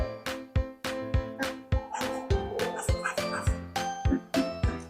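A voice imitates a dog barking, giving a quick series of rhythmic woof-like yelps close to the listener, with small pauses between the bursts.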